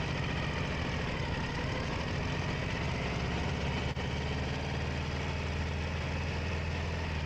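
A Harley motorcycle with a jockey hand shift and foot clutch pulls away in first gear, its engine a loud, steady low rumble throughout with one brief dip near the middle.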